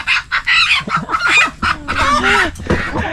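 Close, loud chicken clucking and squawking in repeated bursts, fairly agitated, with background rustling and no talking.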